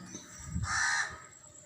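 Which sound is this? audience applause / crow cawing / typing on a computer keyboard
crow cawing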